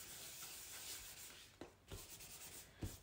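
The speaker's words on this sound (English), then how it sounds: "I'm going to take the embossing buddy and rub it all over" An embossing buddy rubs over stamping paper, a soft, quiet continuous brushing hiss broken by a few small taps and bumps.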